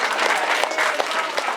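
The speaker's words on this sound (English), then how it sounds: "Let's give him a round of applause." An audience at a holiday special gives a performer a steady round of dense applause, loud and close, with many hands clapping and no talk over it.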